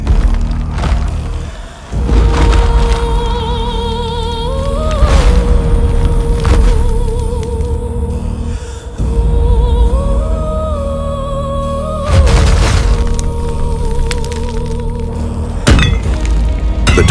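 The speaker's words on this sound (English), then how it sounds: "The Titan catapults fire." Giant Titan catapults launch fireballs that slam down in a battle, heavy booms and thuds landing at intervals of a few seconds over a sustained tonal, music-like backdrop.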